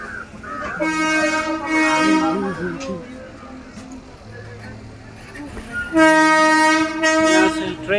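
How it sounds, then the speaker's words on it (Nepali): A train passes a railway crossing near Nainital, its loud horn blaring in two long blasts over rumbling wheels, with a crowd and vehicles waiting nearby and voices talking in between. "अनि यहाँ चाहिँ अहिले रेल आउन लागेको छ अनि गाडीहरू चाहिँ लाइनमै छ"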